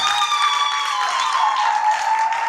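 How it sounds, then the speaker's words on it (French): A theatre audience claps for the Burundian author after a stage reading, steady dense applause filling the room with a tonal ringing or feedback line running through it. "j'aimerais que vous faisiez un tonnerre d'applaudissements pour l'autrice"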